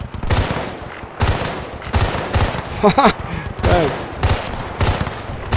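Gunfire in the video game Battlefield Bad Company 2: repeated loud bursts of automatic fire and single shots in an uneven rhythm, close and dominant, with someone briefly speaking between them.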